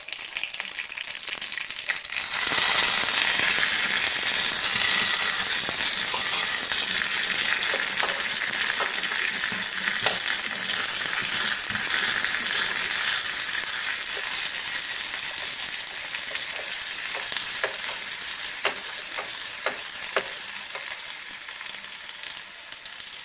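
Mustard seeds, sliced big onion, curry leaves and garlic crackle and sizzle in hot oil, a loud steady fry with sharp popping bursts that starts abruptly after a brief quiet moment and continues throughout.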